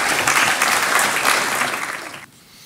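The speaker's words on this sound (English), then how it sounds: "could we give them a warm, encouraging round of applause" An evening audience at a storytelling event gives warm applause, dense clapping that is loud and close, then drops off sharply near the end.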